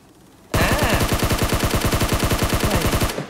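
In PUBG Mobile, a Skyline rifle fires one loud, rapid automatic burst of about twenty evenly spaced shots that starts suddenly and stops just as abruptly three seconds later.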